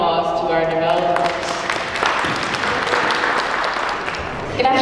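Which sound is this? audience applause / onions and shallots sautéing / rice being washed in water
audience applause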